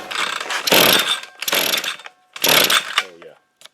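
A new Toro weed trimmer, primed and set to run, is pull-started: three loud, raspy recoil-cord pulls at an even pace, each a burst of ratcheting and whirring, with a brief mechanical rattle trailing the last.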